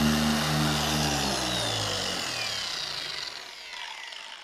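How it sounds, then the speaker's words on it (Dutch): A machine polisher buffing the paint of a BMW 320 Touring, steady loud whirring and rubbing that fades and winds down toward the end. "Zo, tweede deel van polijsten zit er ook op."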